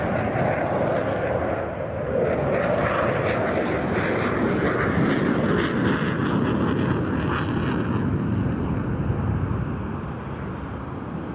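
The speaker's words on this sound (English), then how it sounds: "Made by Dassault Aviation, this is the B-01 two-seat prototype, which first flew in April 1993" Dassault B-01 two-seat prototype jet with Snecma M88-2 afterburning turbofans at the Farnborough air show, a loud broad roar sweeping past and slowly fading over about eleven seconds.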